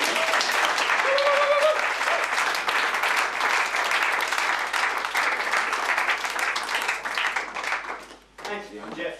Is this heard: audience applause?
yes